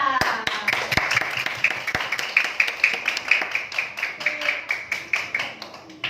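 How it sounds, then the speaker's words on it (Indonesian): Schoolchildren in a classroom clap together in a quick, fairly regular rhythm of sharp claps, close and loud, with some voices mixed in. "sekarang berikan aplaus untuk kita semua"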